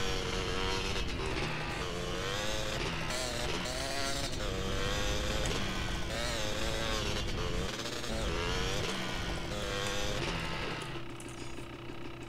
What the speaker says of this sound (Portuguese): Essa moto é bem barulhenta.